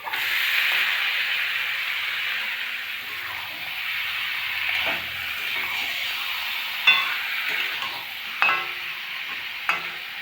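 Mutton pieces fried with reddened onions and spices in a pan for Bengali kosha mutton curry, a steady loud sizzle and hiss with a few sharp scraping clinks of a stirring spoon, no talk.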